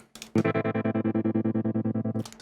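Electric guitar chord pulsing with a very fast, even tremolo from a Strymon Flint pedal at its fastest speed, about ten throbs per second, loud and close, then cut off abruptly.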